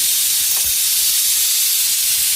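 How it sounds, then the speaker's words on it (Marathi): A vegetable curry and sarru of rice-plant leaves come to a boil, giving a steady loud hiss of bubbling and steam with faint low thuds beneath. "आता एवढं छान उकळी येते"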